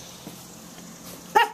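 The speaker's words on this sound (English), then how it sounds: "Barking dog." A single sharp dog bark near the end, close and loud, after a moment of quiet background.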